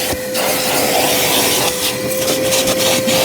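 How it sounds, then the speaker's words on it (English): A vacuum cleaner hoovers the interior of a Proton Impian car, a loud, steady whine and rushing airflow close up, with scraping and knocking as the nozzle moves around. "I think I could hoover this for 2 or 3 hours"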